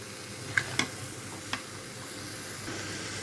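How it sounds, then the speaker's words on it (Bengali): Cut green banana pieces stir-fry in a pan, a quiet steady sizzle with three sharp clicks of a spoon against the pan, close and without talking. "কেটে রাখা কলাগুলা দিয়ে দিলাম। দেওয়ার পরে ভালো করে কষিয়ে নেব।"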